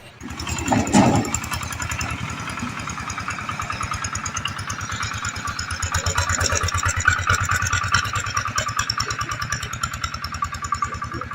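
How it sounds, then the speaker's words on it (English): A power tiller chugs past fields in Bhutan, its small engine putting out a steady, rapid thumping beat at moderate distance that swells slightly and stays continuous throughout. "noticed the power tiller passing by"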